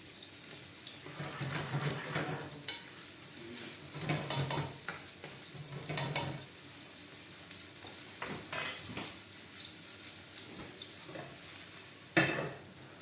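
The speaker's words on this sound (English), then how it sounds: "तो हम मशरूम को कुक कर लेंगे, थोड़ा सौते कर लेंगे, थोड़ा सा डालेंगे और olive oil" Mushrooms sautéing in olive oil for a wild mushroom risotto, heard as a soft continuous sizzle broken by a few brief louder clatters and stirring scrapes, with no voices.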